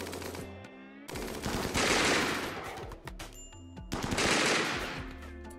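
Gunfire from the RimWorld video game, heard as dense bursts of rapid shots in two loud clusters, with quieter mechanical game sounds between them and no talking.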